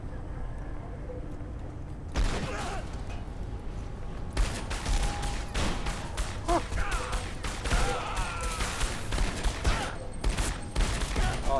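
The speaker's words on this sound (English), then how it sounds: "Oh, that dude's got a machine gun." Machine gun fire in the Source engine shooter SiN Episodes: Emergence comes in rapid bursts and scattered shots, some louder and nearer than others, with a brief lull before the firing resumes, under occasional talk.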